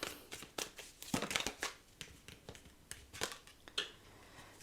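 Tarot cards being shuffled, with rapid papery riffles and soft slaps in quick bursts, close and moderately quiet.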